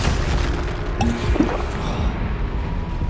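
A Bombarda blasting spell goes off in a Hogwarts video game, a muffled boom rising briefly out of a dense, continuous layer of battle noise.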